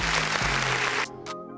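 Studio audience applause played as a sound effect on a live-streamed podcast, a dense burst of steady clapping that cuts off abruptly after about a second, leaving quieter room sound behind.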